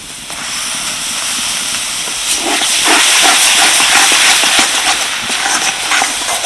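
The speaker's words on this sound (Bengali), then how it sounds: "সর্ষে পেস্ট দিয়ে তিরিশ সেকেন্ড মতো কষিয়ে নিলাম" Mustard paste sizzling loudly in a wok with turmeric and chili powder, a steady close hiss with crackling spits that swell midway through, no voices.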